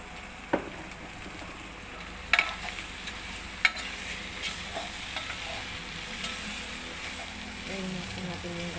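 Coconut milk being stirred in a hot frying pan, with a soft, steady sizzle and a few sharp scrapes of the spoon against the pan, and some quiet talk in the background.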